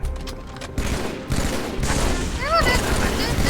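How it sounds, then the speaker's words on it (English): Gunfire and cannon blasts from the Halo 3 video game, a dense run of explosive shots with whistling projectile sweeps, loud and continuous, with game noise throughout. "Go for it, Tucker. Grab that big cannon."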